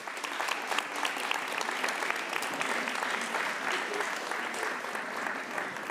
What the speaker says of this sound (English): can we give them the biggest, brightest round of applause for all their hard work?